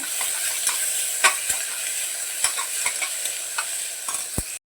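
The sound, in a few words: onion being sautéed in a pan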